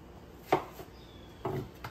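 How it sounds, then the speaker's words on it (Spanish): A knife chops peeled, washed cucumber on a cutting board for a shrimp cocktail, with a few distinct, fairly quiet, irregular strikes close by. "Para picar nuestro pepino, yo ya lo pelé y está lavadito."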